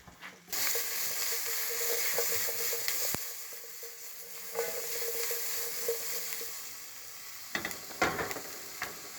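Onion and garlic sweat gently in butter in a pan, a soft continuous sizzle with occasional light clicks of utensils, ending in a few sharper stirring scrapes.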